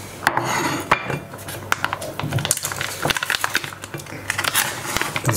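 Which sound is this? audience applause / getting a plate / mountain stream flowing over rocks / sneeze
getting a plate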